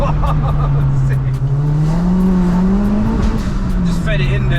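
A 370bhp Mk1 Ford Focus RS engine pulls hard under acceleration, a loud steady drone rising gradually in pitch, heard from inside the cabin with talking over it.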